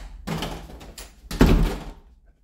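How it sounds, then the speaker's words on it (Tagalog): A bedroom door in a simple room being swung shut, a short rattling shuffle followed by a louder thudding close, heard near and alone with no talk. "isasara ko tong yung pintuan"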